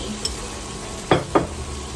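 Canned fish being stir-fried in a hot pan, a constant close sizzle with two quick scraping strokes of a spatula near the end.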